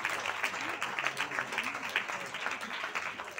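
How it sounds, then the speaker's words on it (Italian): Audience applause at a film award ceremony, a steady wash of many hands clapping at moderate distance, fairly faint, with some voices mixed in throughout. "però noi le facciamo lo stesso un grande applauso"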